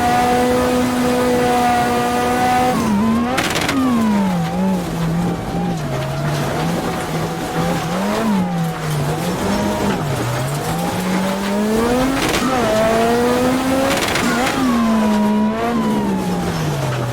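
A Lancia Delta S4 Group B rally car climbs the Transfagarasan mountain road, its engine note rising and falling through repeated gear changes and lifts, with brief tire squeal, loud and close throughout.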